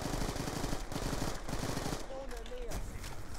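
Automatic weapon fire in Call of Duty: Black Ops 2 multiplayer, a loud, sustained rapid rattle of gunshots in dense bursts with brief gaps, mixed with game sound effects.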